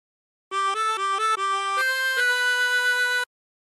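A chromatic harmonica plays the opening phrase of a song: five short, clear notes, then two longer held notes. The tones are bright and reedy, played solo with no talking.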